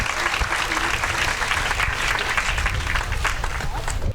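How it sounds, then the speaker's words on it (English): An audience at a monument dedication program claps steadily, a dense, even wash of applause that holds loud and unbroken throughout. "Another round of applause for the Geyer family"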